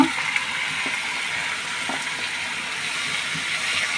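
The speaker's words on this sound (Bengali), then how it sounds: "এখন আমি এই যে গাজর কুচিগুলো দিয়ে দিব" Continuous low sizzling and crackling of grated carrot frying in ghee, with a few soft knocks from stirring, fairly close and steady throughout.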